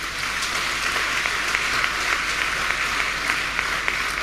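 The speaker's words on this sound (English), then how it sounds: "Clap for Jesus." At a church service, a congregation claps for Jesus in dense, continuous applause, loud and steady across the whole stretch with no voices standing out.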